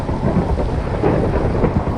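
Thunder in Minecraft during a rainstorm, a continuous low rumble mixed with steady rain noise, loud and close with no talking.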